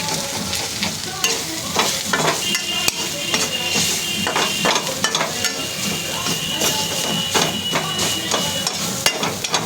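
A spoon stirs chili powder into shalik (myna) bird meat curry in a pan, with steady sizzling and frying, repeated scraping strokes and occasional clinks of metal against the pan, close by.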